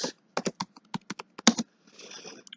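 Keys on a computer keyboard are tapped in quick irregular bursts of crisp clicks, close and clear, with a short softer rustle before a last few taps.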